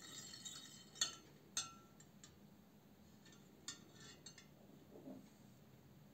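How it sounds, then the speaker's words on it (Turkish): A spoon stirring a spice dough mixture in a bowl gives a few faint, scattered clinks and scrapes against the bowl, spaced out over a quiet background. "Biraz karıştırıyorum."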